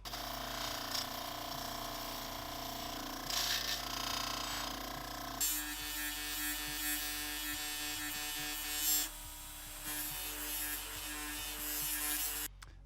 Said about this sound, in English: I'm going to try the more aggressive Scotch-Brite wheel and see if I can smooth some of that out